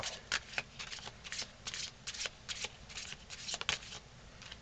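Brand-new, slippery tarot deck being shuffled by hand: a continuous run of crisp riffling flutters and quick card slaps, close and fairly steady, with no talk over it.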